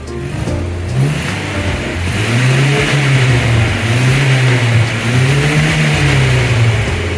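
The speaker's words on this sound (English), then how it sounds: "why don't you rev it up? I want to see if it smokes." A repaired car engine, smoking after reassembly, revs up repeatedly in long rising and falling surges, loud and close, with no talk.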